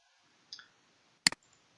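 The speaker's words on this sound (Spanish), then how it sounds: "Clic derecho." Two quiet, crisp computer mouse clicks, the second a quick double click, separated by near silence in a still room.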